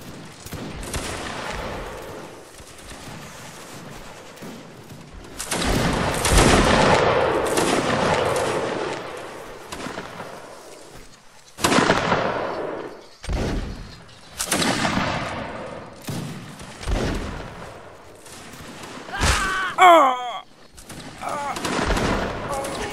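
Musket volleys crack out in the Napoleonic Wars game, ragged bursts of many shots overlapping in quick clusters, some close and loud, others thinner and farther off, with someone shouting orders between them.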